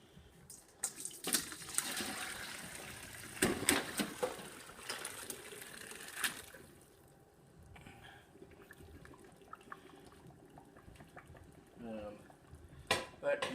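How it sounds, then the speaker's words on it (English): Chicken broth with bones is poured into a colander over a pot, giving splashing, running water with clatters of bones and metal, louder in the first half then fading to quieter trickling drips, with a brief voice. "we're going to take this and dump it into the colander"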